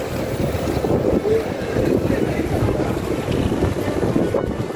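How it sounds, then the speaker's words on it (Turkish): Strong Baku wind buffets the microphone in steady gusts on the seaside, with a broad rushing roar like open shoreline air. "bu da Bakü'nün rüzgarı"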